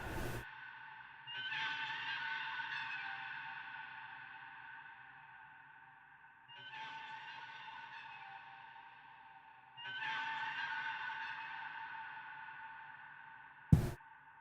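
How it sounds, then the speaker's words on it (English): Synthesized elephant sound effect processed with EQ and large abyss-style reverb, three sustained bright trumpeting tones that swell and decay with long echoing tails, alone, ending with a sharp click. "it's the sound that a elephant makes"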